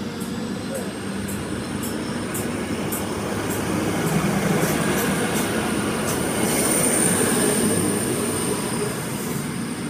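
An Explorer passenger train passes steadily nearby at Beresfield: a sustained roar of wheels on track, a thin high squeal and a light, regular clicking over the rail joints.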